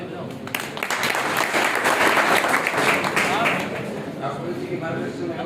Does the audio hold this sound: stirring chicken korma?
no